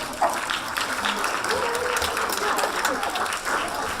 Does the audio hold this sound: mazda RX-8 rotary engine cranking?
no